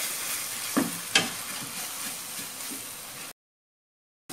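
Green chilli sauce and soy sauce stirred together in a hot pan for cauliflower manchurian, a continuous sizzle with a couple of spoon scrapes, close, then cutting off abruptly into silence.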